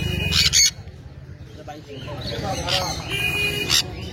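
Caged exotic pet birds, including conures, at a bird market give sharp squawks and shrill calls in short bursts, close by, mixed with people talking nearby.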